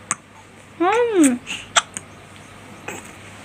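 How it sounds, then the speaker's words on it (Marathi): A child hiccups once, a short rising-falling vocal squeak, amid a few sharp clicks and bumps in a quiet indoor room at home; the hiccup is close and clear. "काय म्हणतेस उचकी लागली"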